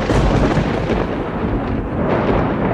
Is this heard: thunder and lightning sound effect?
yes